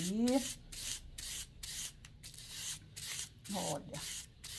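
A paintbrush being rubbed on fine sandpaper to prepare it for fabric painting, a close, quiet rhythmic scratching in steady back-and-forth strokes, with a brief faint voice in the background.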